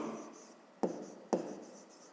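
A pen writing out a fifth-grade maths exercise on paper, soft close scratching strokes with two sharper taps as the pen meets the page, in a quiet room without talk.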